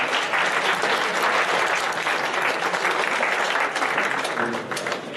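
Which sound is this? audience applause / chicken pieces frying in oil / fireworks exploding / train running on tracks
audience applause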